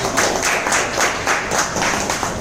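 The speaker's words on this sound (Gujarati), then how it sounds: "પૂરું બોલવા દો પછી તાળી પાડો" Brief burst of audience clapping at a Gujarati product-testimonial gathering in a hotel hall, a steady patter of many hands filling the space.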